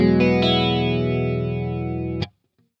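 Electric guitar through a Boss DC-2W Dimension C chorus in mode 1, a few picked notes blooming into a shimmering, gently widened chord that rings steadily, then stops abruptly into silence.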